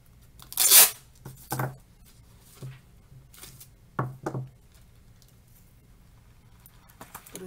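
Packing tape is ripped loudly off the roll while an order is packaged, a sharp tearing burst followed by several shorter pulls and knocks spread over a few seconds, with no talking.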